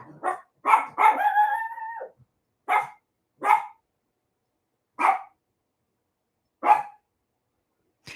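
Dog barking indoors, a close series of sharp single barks with one drawn-out whining yelp early on, then spaced barks separated by seconds of silence.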